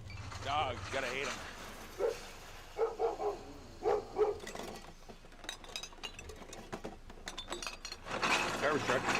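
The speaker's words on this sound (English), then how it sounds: "Dogs, gotta hate them." A dog barks several times in short bursts amid outdoor noise, with voices and some clinking in the background.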